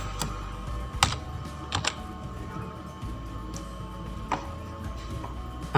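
Typing on a computer keyboard while working in the Windows control panel: a steady patter of key clicks with a few sharper taps, close and moderately loud, over a low background hum.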